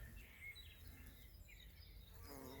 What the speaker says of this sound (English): There's a big black bumblebee.